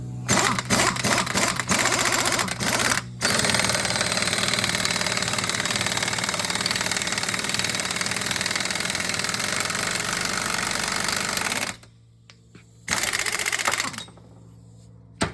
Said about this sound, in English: Mike pulled the bearing off the pinion here